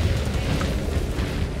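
A grenade blast in the shooter Helldivers 2, a loud, dense, sustained low rumble filling the whole moment with no pause or voice over it.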